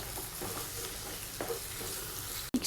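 Garlic paste fries in a pan for a ridge gourd masala curry, a steady soft sizzle with light stirring and a sharp clatter near the end, heard without speech.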